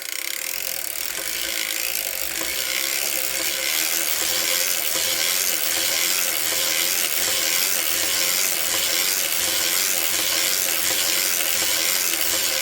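A hand-cranked circular sock knitting machine running rows of 64 stitches, a continuous dense mechanical clatter of needles and cams with a steady ratcheting rhythm, close and loud without pause, no talking.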